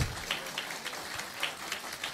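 Applause for award winners at a school award ceremony, a steady patter of many hands clapping with no voices over it.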